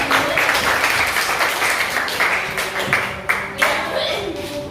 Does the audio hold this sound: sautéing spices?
no